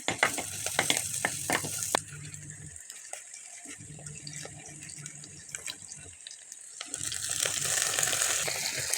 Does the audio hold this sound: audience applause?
no